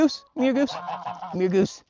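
Geese honk in two loud, close bursts separated by a short pause, with a person speaking briefly nearby.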